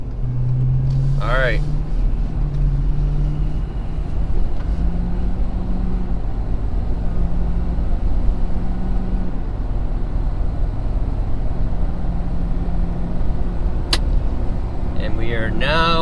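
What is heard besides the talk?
2019 Ford Super Duty Powerstroke diesel accelerating while towing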